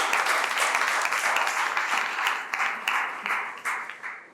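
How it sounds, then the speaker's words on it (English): Audience applause at a school debate conference, full steady clapping that gradually thins and fades toward the end, with a few distinct claps standing out as it dies down. "Please let's give Olamide a round of applause."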